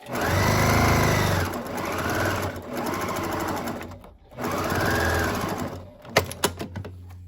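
A sewing machine stitching around the edges of a store-bought quilt for an appliance cozy, loud steady mechanical whirring in three long runs with brief pauses, ending in a few sharp clicks, close with no talking.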